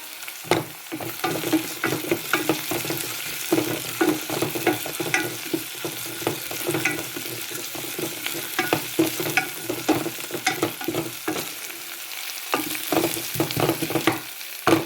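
Onions and a green chilli sauté in a pan for a boneless fish curry, steady sizzle and frying hiss with repeated scraping stir strokes, close and fairly loud throughout, no talking.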